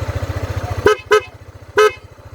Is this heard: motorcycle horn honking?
yes